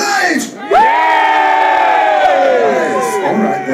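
Heavy metal concert crowd at the Underworld screaming at a show: a loud, sustained roar of many voices that swells in and holds for about three seconds, with whoops on top.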